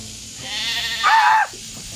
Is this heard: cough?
no